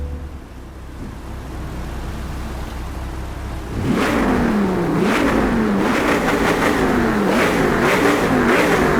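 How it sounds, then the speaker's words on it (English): A car engine in the racing game Driveclub idles low, then revs repeatedly, rising and falling in pitch with loud, throaty bursts close by. "a stationary car gunning its engine"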